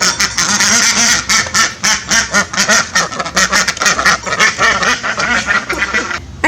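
A flock of farm ducks kept in a converted chicken coop quacks loudly and close, overlapping in a busy continuous chorus of raspy calls with no pause.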